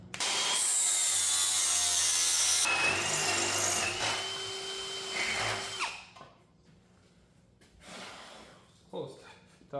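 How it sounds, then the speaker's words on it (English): An angle grinder screams loudly against metal for several seconds, grinding a small flat spot for drilling, then winds down, leaving a few quieter clanks and handling noises. "take an angle grinder, and grind me a little flat spot"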